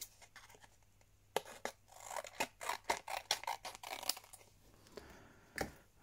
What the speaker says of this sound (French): Hop, je vais le couper ici.